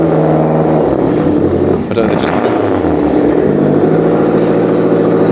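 A powerful rally car engine at a rally in Grand Est, France roars and revs as it pulls away, loud and close, with a brief burst of higher noise; a person speaks briefly over it.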